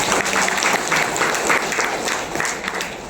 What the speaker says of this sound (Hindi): एक बार इनके लिए ताली बजाओ भाई